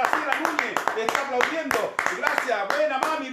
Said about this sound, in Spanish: Espectacular, un aplauso, Laura